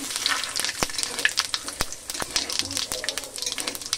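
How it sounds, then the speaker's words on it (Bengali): Dry red chili, whole cumin and bay leaf crackle and sizzle in hot white cooking oil, sharp pops and spits scattered irregularly over a steady frying hiss, close and fairly loud. "প্রথমে আমি ফোড়ন দিয়ে দেবো শুকনো লঙ্কা,"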